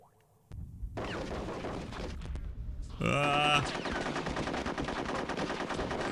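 Gunfire from the video game Conker's Bad Fur Day rattles in rapid automatic bursts, loud and close, with a sharp ringing metallic blast partway through and continuous shooting after it.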